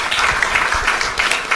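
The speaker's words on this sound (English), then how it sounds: "Give a round of applause" Steady applause from a crowd at a public event in Australia, dense clapping filling the whole moment at an even, moderate loudness.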